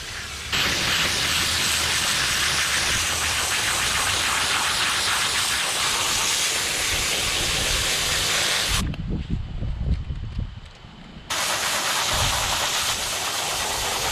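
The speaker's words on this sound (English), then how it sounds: "I just finished hosing this whole thing off" Garden hose spraying water at the curb to rinse a saltwater pool filter, a loud continuous hiss that cuts out briefly near the end and then resumes.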